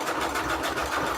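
Steady close whir of a sewing machine stitching paper junk journal pages, running continuously for a moment with no talking.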